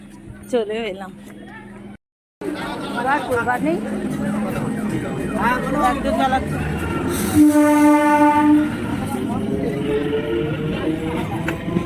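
A train passes at a station: the horn sounds over the steady rumble of rail cars, with people talking close by and a brief dropout near the start.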